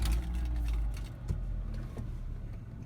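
A car engine turns over and settles into a low, muffled rumble, heard from inside the cabin with the window partly down, fairly faint, with a few soft clicks and knocks.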